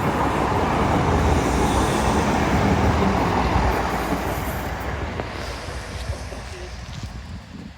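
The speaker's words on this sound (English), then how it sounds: "there's a real life train coming in to smash through the picture" Train passing along a seawall, a broad continuous rumble and rush that is loud at first and then slowly fades as it moves away, with wind buffeting the microphone.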